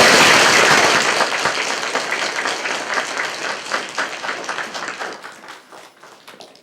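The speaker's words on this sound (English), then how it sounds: "So everybody give a big, big clap for this." An audience claps at a children's book reading, starting as loud dense applause that gradually thins into scattered individual claps and fades over several seconds.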